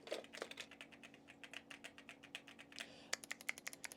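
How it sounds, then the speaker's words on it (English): Steady, quiet typing on a milky mechanical keyboard, soft close key clacks in an uneven rhythm that quickens into sharper, faster strokes near the end, heard alone. "I love the way the milky keyboard sounds."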